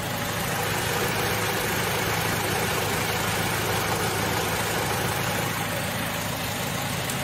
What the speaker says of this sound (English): But I'll let you listen to the engine.